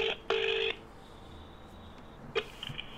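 A telephone line connecting a call, with two loud electronic tones, one short and one longer, followed by quieter line hiss and a brief click-like blip.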